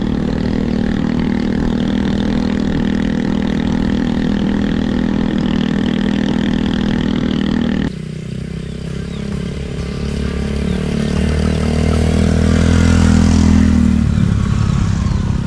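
Yamaha Aerox scooter engine running steadily while riding, loud and close with a constant drone, shifting partway through into a rising, revving pitch as the ride continues along a rural road.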